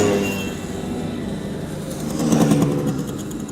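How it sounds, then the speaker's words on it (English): Classic mopeds from a moped club pass by beside an airport runway, a buzzing small-engine drone that swells and grows louder toward the end under steady outdoor background noise. "And the Moped Club is returning."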